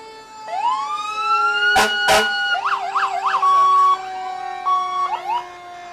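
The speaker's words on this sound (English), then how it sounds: "It's a full-on competition of which fire department is the loudest." Fire truck sirens at a Fourth of July parade, loud and close: a rising wail, two sharp air-horn blasts, then fast yelping and warbling siren patterns with a steady tone continuing underneath.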